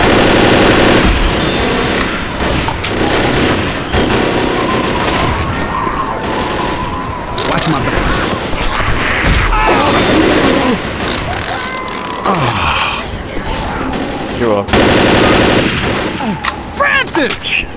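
Dense gunfire from the video game Left 4 Dead, with rapid automatic bursts and repeated shots running almost nonstop at close range, loud throughout, with occasional voices underneath.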